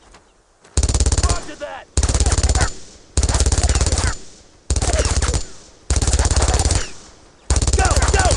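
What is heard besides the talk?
machine gun fire in the video game Brothers in Arms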